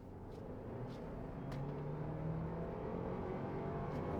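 Toyota Land Cruiser in sport mode accelerating, a steady low engine drone and road rumble that swells slightly and holds, heard from inside the cabin with no talking.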